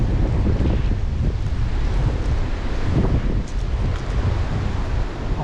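Strong wind storm at a pond during a fishing trip, with loud, continuous gusting and microphone buffeting that fills the whole stretch without pause and with no talking.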